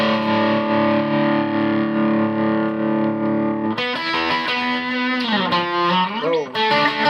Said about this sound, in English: put the distortion on